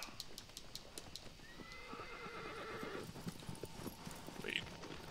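Horse Agro in the Shadow of the Colossus video game, hooves clip-clopping at a gallop with a whinny, steady hoofbeats over game ambience.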